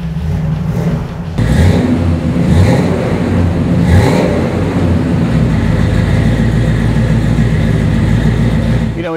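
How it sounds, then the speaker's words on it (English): A 1981 Jeep J-20 engine with Flowmaster dual exhaust idles, then revs up with a deep rumbling exhaust note, rising and falling a few times before settling into a steady drone. "Flowmaster dual exhaust"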